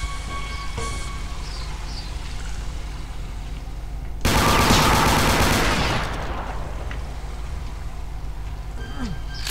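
A loud, dense burst of gunfire erupts midway through Brutal Doom's Extermination Day, a realism tactical survival horror game. It lasts about two seconds over a steady, rain-like background hiss, with quieter ambience on either side.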